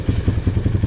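Honda CRF230 dirt bike engine, its carburetor jetting off so it runs both rich and lean, sputtering to life with a rapid, uneven train of low thumping firing pulses, close and fairly loud.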